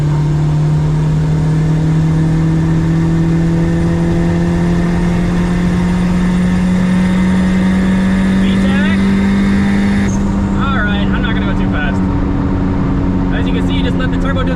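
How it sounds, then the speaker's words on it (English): Turbocharged Honda Civic accelerating on a highway with a VTEC crossover, its engine drone holding steady and rising slightly in pitch, loud and close from inside the cabin, with a shift near the ten-second mark. "You can hear that nice VTEC crossover"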